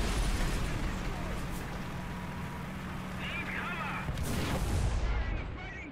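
Dull booms of tank guns firing in War Thunder with an IS-7 tank, over a continuous rumbling battle background, with someone talking during the fighting.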